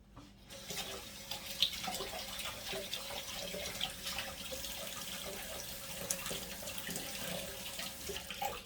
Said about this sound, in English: So we're going to just rinse our tomatoes